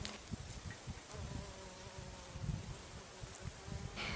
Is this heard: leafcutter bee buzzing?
yes